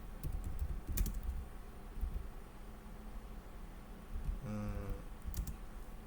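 Close computer keyboard typing of a short code comment, a quick run of soft key clicks in bursts with brief pauses, over a light hum of room noise.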